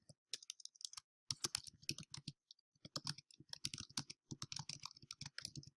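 Rapid, uneven clacking of a computer keyboard being typed on, close and fairly loud, with brief pauses between bursts.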